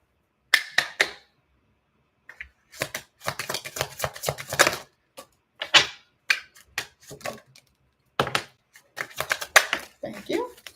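Tarot cards being shuffled by hand, bursts of crisp riffling and snapping cards in irregular clusters separated by short pauses, close and fairly loud.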